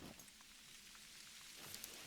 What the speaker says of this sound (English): Sounds like it's raining.